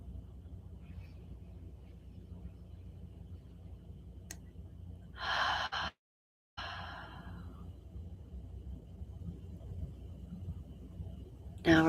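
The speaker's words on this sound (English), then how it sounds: "Last exhale, breathing out through the mouth." A long, deep exhale through the mouth during a guided morning meditation, a soft breathy rush lasting about a second, close to the microphone in a quiet room with faint background hum.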